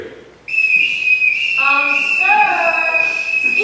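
A whistle blown as a household signal, a sharp sustained piercing tone that enters abruptly and then shifts into a warbling multi-note call, loud and close, with no speech.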